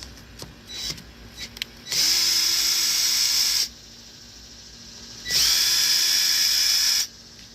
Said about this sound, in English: it is requiring a power tool